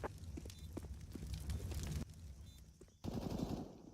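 Rapid bursts of gunfire from a Counter-Strike esports match on the Mirage map, quick automatic rattles and single shots cut between scenes, moderately quiet and heard alone without commentary.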